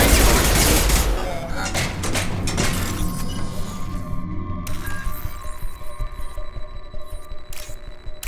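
Loud gunfire bursts out in a Mass Effect 2 firefight, with a dense rattle at first that thins into a low throbbing hum and scattered clicks.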